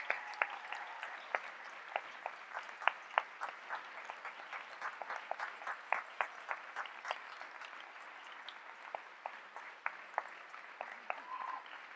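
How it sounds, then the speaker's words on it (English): A graduation convocation audience applauds at length, a dense wash of many hands clapping with sharper individual claps popping through, steady throughout and moderately distant. "Let's give them a round of applause."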